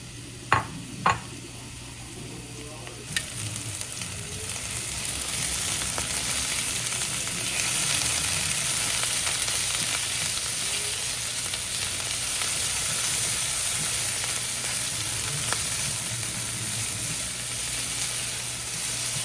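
Onions, scallion and homemade ginger-garlic paste dropped into hot coconut oil, a few clunks at first, then a loud continuous sizzle that holds steady to the end.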